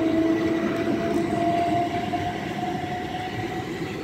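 Two coupled Class 375 electric multiple units pull out of a station toward London Charing Cross, with a steady rumble of wheels on rail and a sustained motor whine that shifts in pitch as they gather speed.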